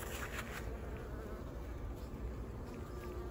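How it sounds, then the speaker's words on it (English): Honey bees buzzing steadily inside a hive that has come through winter, a close, continuous drone at moderate volume with no voices. "there is bees in this hive here, and they're alive"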